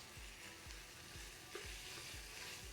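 Minced pork fries in a pan with spices, giving a steady close sizzle with soft scraping stirs repeating at an even pace.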